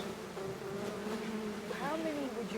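Bees in a colony hum in a continuous, wavering drone, their pitch sliding up and down as they buzz close by, fairly soft.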